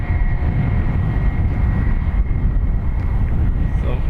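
Ryanair flight 8702 takes off from runway 10 right at Dublin Airport, its jet engines a loud, steady broadband roar with a low rumble that holds for several seconds.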